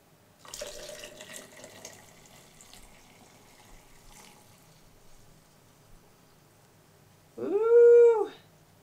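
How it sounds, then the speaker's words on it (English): Water is poured into a blend of oils, cedarwood atlas and rosemary essential oil, for a beard co-wash, giving a soft splashing trickle for a few seconds. A short loud whining howl follows later. "it's time to add my water to my oils."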